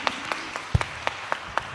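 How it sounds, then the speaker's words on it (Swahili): Sparse, rhythmic clapping in a church service, a handful of distinct claps spaced roughly evenly over a couple of seconds, fairly faint and without voices. "Tumpigie makofi mazuri"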